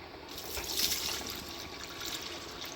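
Water poured in a quick dump into a homemade charcoal moonshine filter, a steady splashing, trickling rush lasting the whole few seconds, fairly close and moderately loud with no talking.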